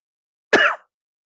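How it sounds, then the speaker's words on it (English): One short, sharp cough, close and fairly loud, with silence before and after. "I'm coughing up a storm"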